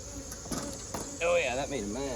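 Agitated honeybees buzz around an opened hive as a box is set beside the honey supers, a steady insect drone throughout with a voice talking over the second half.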